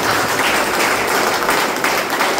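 A church congregation claps loudly and continuously after a hallelujah chant. The noisy, close applause fills the whole moment without pause.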